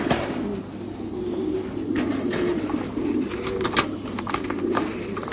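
French meat pigeons coo steadily at a large farm, a dense chorus of soft, overlapping coos with wing flutters and scattered clicks, close and continuous throughout.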